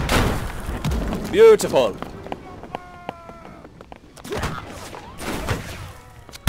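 Naval cannon fire in the musket-era battle game Holdfast: Nations At War, with several heavy booming blasts spread through the clip, some close and loud, some trailing off, while players shout over them.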